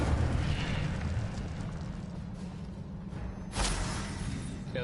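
In the Hogwarts Legacy video game, a fire spell erupts with a loud, sustained roaring whoosh and crackling burst, followed by a brief flare-up near the end.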